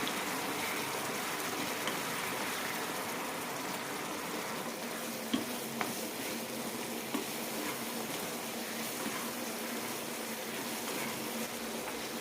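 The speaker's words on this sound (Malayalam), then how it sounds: "ശർക്കരപ്പാനിയെല്ലാം വറ്റാൻ തുടങ്ങിയിട്ടുണ്ട്" Banana pieces simmer down in jaggery syrup for Kerala pazham nurukku, making a steady, soft bubbling hiss with a few small pops and ticks scattered through. No voices are heard.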